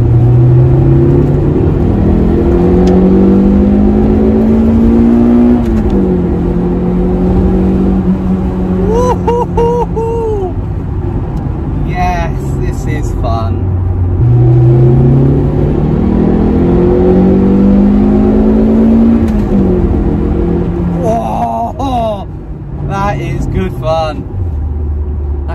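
A Toyota MR2 Mk1 engine revs repeatedly to about 7,000 RPM, climbing in pitch to a high whine and then dropping, loud and close, with brief voices partly over it.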